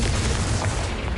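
A Confringo blasting curse explodes in Hogwarts Legacy, giving a short, dense, roaring burst of noise that stays loud throughout.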